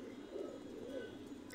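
A master pair of Pakistani Nila Kamagar pigeons cooing softly in low, rolling calls that repeat close together against quiet background noise.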